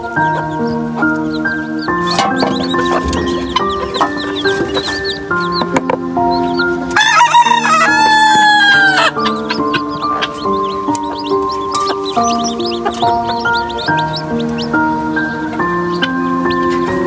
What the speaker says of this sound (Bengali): আরিয়ানের টাইগার মুরগিগুলোর অবস্থা ভালোই